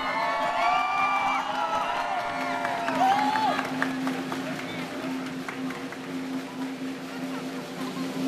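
Audience at a high school orchestra's Christmas concert claps and cheers in a steady, broad wash of applause, with voices calling out over it and a tonal hum running underneath.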